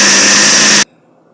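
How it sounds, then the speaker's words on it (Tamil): Mixer grinder jar blending soaked rice with water for horchata, a loud high whining motor roar that cuts off abruptly, a pause of quiet, then the motor starting up again. "மிக்ஸி ஜாரில் வந்து இதை நல்லா அரைச்சிடலாம்."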